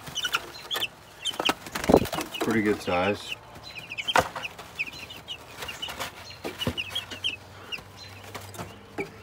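Farmyard chickens cluck and squawk close by in a steady run of short calls, with a brief louder outburst. Someone talks briefly over them.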